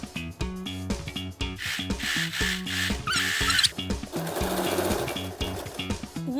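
A sewing machine stitches salwar fabric in steady, rapid rhythmic bursts of mechanical clatter, close and loud, with a brief pause and restart partway through and no talking.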